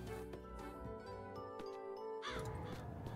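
A crow caws in the horror video game Little Goody Two Shoes, a harsh call breaking in after a stretch of ringing, tinkling game music, with no speech.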